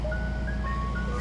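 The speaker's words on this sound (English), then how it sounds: "Oh, the ice cream truck is right next to me." An ice cream truck parked close by plays its jingle, a thin wavering melody of sustained tones over a low steady engine rumble, moderately faint and continuous.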